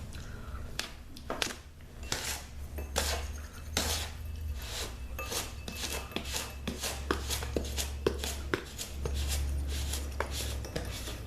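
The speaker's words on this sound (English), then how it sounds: "Stir it, see what it looks like now." A spoon clinks and scrapes while stirring bath bomb fizzy mixture in a bowl, producing many close, sharp taps throughout over a low background hum.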